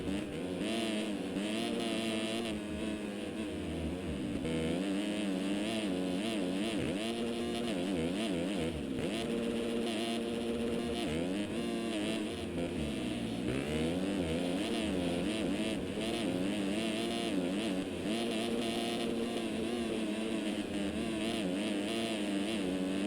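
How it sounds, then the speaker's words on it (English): Simulated motocross bikes at Fox Raceway in MX Simulator, engines revving high and dropping as they shift gears, a continuous buzzing whine that rises and falls without any voices. "how they shift gears on this track"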